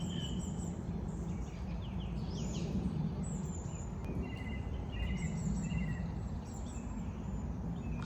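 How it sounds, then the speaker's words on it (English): Songbirds chirp and trill faintly at a lake during winter dawn, several light calls scattered over a soft steady background hiss, with no voices. "Just listen to the bird song."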